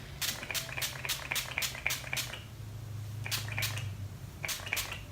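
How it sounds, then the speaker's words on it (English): Quick bursts of fine rose water facial mist from a pump bottle, several rapid pumps in a row, pauses, then two more short groups, close and crisp. "I'm just gonna spray that all over my face."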